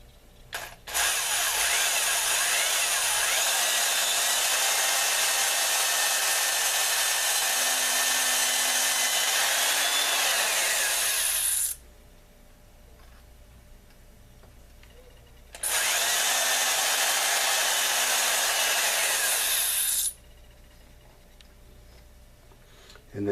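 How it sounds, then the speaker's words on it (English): A power drill bores starter holes straight down into wood, with two long, loud, steady whining runs separated by a quiet pause and a faint voice. "I'm just going to start to drill my starter holes, right, straight up and down"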